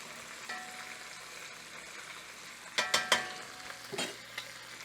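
Flour being stirred into chicken in a Misen Dutch oven, a low steady sizzle with a few sharp scraping knocks of the spoon against the pot in quick succession, close and without talk.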